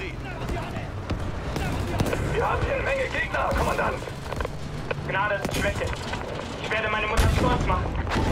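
Battlefield 5 game combat with a tank explosion and gunfire: repeated shots and blasts crackle throughout at close range, mixed under continuous excited talk from players.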